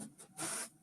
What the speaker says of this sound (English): that is the sound of the printer someone's using